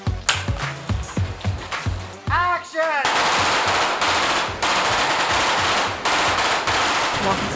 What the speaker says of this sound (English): We are filming a scene that involves a lot of gunshot